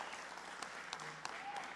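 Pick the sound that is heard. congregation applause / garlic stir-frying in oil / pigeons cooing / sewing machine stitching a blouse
congregation applause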